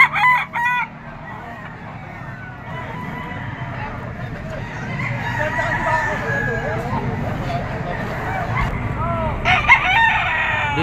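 Golden boy gamecock rooster, three years old, crowing at a Padre Garcia, Batangas auction market; a loud nearby crow opens and another comes near the end, amid chatter, clucking and background talk of the market.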